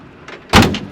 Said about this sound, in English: One question we've had with the doors is, do they open and shut